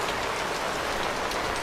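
Steady rain falling on a car parked in the open, a dense continuous hiss of drops with no pauses or voices.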